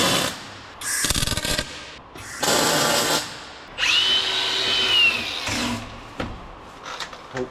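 Tack welding on a stretched 6x4 Gator frame: several separate crackling, hissing bursts of about a second each, fairly close and loud, with short quiet gaps between them and no talking.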